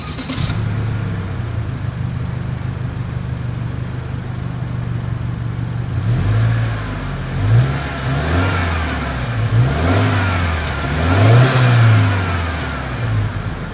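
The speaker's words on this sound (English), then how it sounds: "As always, here is that exhaust clip." Exhaust of a 2021 Subaru Outback, idling steadily at first and then blipped through several quick revs that rise and fall, recorded close up with no talking.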